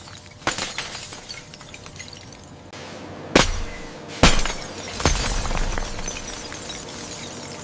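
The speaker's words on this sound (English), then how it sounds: "This is how ordinary, non-tempered glass can fail under sudden impact." Ordinary non-tempered glass shatters under sudden impact, several sharp breaking crashes with scattered tinkling fragments, loud and close, spread over a few seconds.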